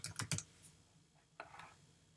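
Typing on a computer keyboard while filling out an online payment form, a quick cluster of clicking keystrokes followed after a pause by a few softer taps, close and quiet with no talk.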